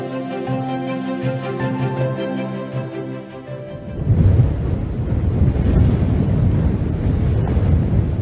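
Gusty wind in the sparse desert region of Jhimpir, Pakistan rushes and buffets loudly across the microphone for the second half, taking over from a few seconds of music.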